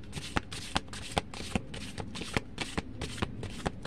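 A deck of playing cards is riffled and shuffled in quick, regular bursts, about a dozen crisp flutters close by with no talking.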